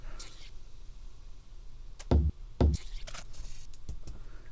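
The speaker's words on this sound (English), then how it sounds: "We also have a lot of other sound effects layered on the drums." Scattered odd clicks, thumps and swishes pop up sparsely over a low background, a couple of punchy low hits standing out mid-way.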